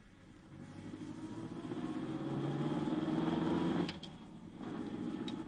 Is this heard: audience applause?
no